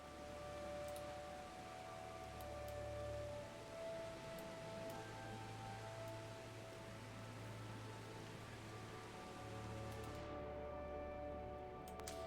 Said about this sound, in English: when you go from outside to inside, the rain sound like disappears